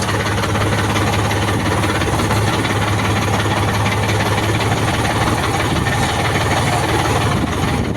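A Kartar 4536 tractor engine idles steadily nearby, a continuous low rumble and vibration with no pauses.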